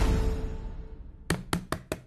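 Four sharp knocks on a door in an uneven rhythm near the end, loud and close, after a stretch of fading low background sound.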